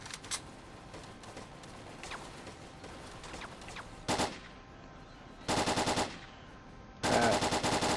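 Gunfire from bandits in the S.T.A.L.K.E.R. video game, with scattered single shots at first, then several loud sustained automatic bursts toward the end, close and harsh.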